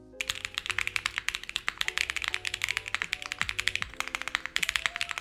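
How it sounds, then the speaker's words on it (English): Fast, steady typing on a TKD Cycle 7 mechanical keyboard fitted with Drop green keycaps, close and clicky with dense rhythmic keystrokes throughout, heard on its own. "A few folks asked for sound tests in my previous keycap reels"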